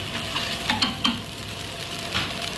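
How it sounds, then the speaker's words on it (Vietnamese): A machine stir-fries rice in a Saigon chicken-rice shop near Thai Binh market. There is a steady sizzle with scraping and clinking stirs, mostly in the first half. "ảnh đang chiên cơm. Chiên cơm cũng bằng máy luôn."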